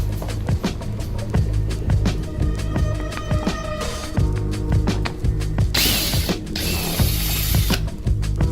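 Rapid ratchet clicking in repeated bursts, close and loud, as 7mm bolts are backed out of the plastic front bumper on a 2018 Ford Mustang GT.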